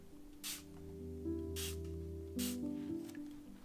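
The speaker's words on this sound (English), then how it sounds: "spraying the lines that I just put down with some water" Water misted from a spray bottle onto Neocolor II crayon lines: three short hissing spritzes spaced about a second apart, close by, over a steady low background hum.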